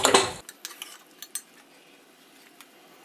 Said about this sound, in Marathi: आता आपण पुन्हा झाकण ठेवणार आहोत